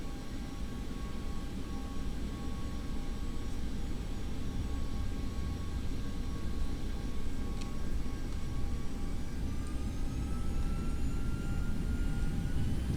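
Default Boeing 737-800 taxiing in the X-Plane 11 flight simulator: a steady, continuous jet engine roar with faint high whine, constant loudness throughout, no voices.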